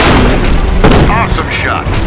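Gunfire and a sharp explosion from the Nintendo Switch tank wargame Battle Supremacy: a dense, loud burst of shots with one strong blast near the middle, layered with a voice-like tone throughout.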